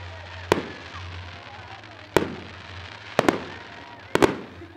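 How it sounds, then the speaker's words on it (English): Fireworks bursting in the distance, five sharp cracking booms spaced irregularly, two of them in quick pairs, each fading into a soft rumbling tail over a quiet background. "we went to the fireworks"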